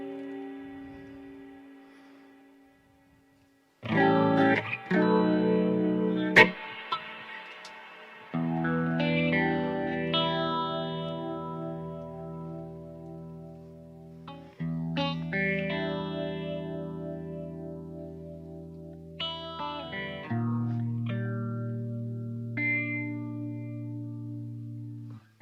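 A guitar runs through the modulation effects of a Boss GT-1000 Core processor, playing several sustained chords and single notes with swirling chorus-like shimmer and echoing tails, separated by short pauses, with no speech.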